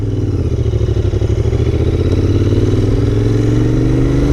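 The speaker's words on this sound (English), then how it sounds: "I like this engine, it sounds so good." A Royal Enfield Interceptor 650 motorcycle engine revs steadily up close, its deep throaty rumble rising in pitch as it accelerates and holds a loud, continuous drone.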